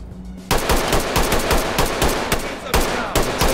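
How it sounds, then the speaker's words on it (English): AK rifles in the tactical shooter Ready or Not fire in rapid, loud automatic bursts that start abruptly and run almost without pause. The rattling shots are packed close together with only brief gaps and no talking over them. "Russian tactic. Run and shoot."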